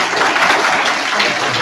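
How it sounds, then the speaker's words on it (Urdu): Audience applause at an annual examination prize ceremony at a government boys' middle school in Thara, a dense, steady clapping wash that fills the short stretch without pause. "تالیوں کے ساتھ بچے کو حوصلہ افزائی کریں۔"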